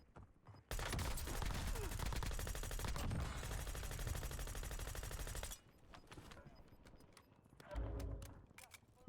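Sustained rapid automatic gunfire in the video game Call of Duty Warzone blasts loud and dense for about five seconds, then gives way to scattered lighter shots and a brief further burst near the end.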